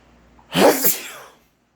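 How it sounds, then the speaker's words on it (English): A single loud sneeze, close up: a sharp intake and burst followed by a brief trailing exhale, then silence. "I swear, every video, I sneeze."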